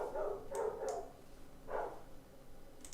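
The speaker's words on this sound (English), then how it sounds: "The dogs are getting crazy." Several dogs give short excited barks and yips in quick bursts, sounding somewhat distant and fairly faint against a steady background hiss, with pauses between the outbursts.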